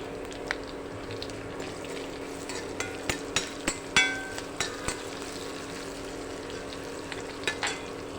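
Garlic lemon pickle with fenugreek sizzles in a pan while a spoon stirs it, a steady low fry broken by a scattered series of sharp clinks against the pan.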